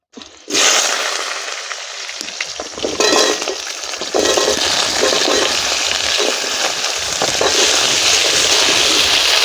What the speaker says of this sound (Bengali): বন্ধুরা ওলকপি আর আলু একদম ভাজা ভাজা হয়ে গেছে